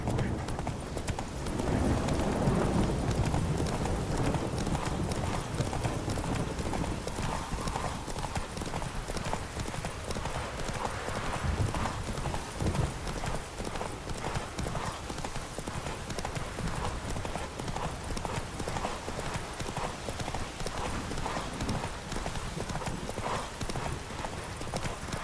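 Roach the horse gallops in The Witcher 3 game, hooves beating a steady, dense clip-clop rhythm throughout, loud and close against a constant ambient bed, with no voices.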